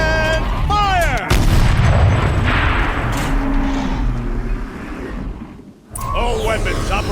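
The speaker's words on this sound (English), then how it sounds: "Rotate turret! And fire!" Turret cannon fire in Horizon Zero Dawn booms loudly under an ongoing game voice, with heavy low rumbling blasts and a brief gap before the action resumes.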